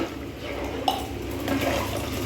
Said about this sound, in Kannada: ಆರು ಗ್ಲಾಸ್ ನೀರು ಹಾಕಿದ್ದೀನಿ